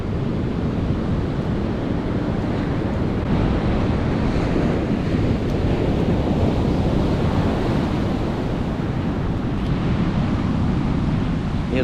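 Ocean surf breaks steadily on a beach during shore fishing, a continuous loud wash of rolling waves with some wind rumble across the mic and no voices.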